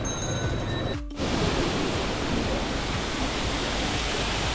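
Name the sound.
small indoor waterfall at Kempegowda International Airport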